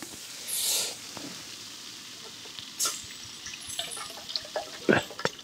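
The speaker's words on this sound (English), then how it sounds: "Let's get some more water on the go for another coffee." Water pours into a pot for another round of coffee at a winter overnight camp. Short hissing splashes come in bursts, close and moderate in volume, with quiet gaps between them.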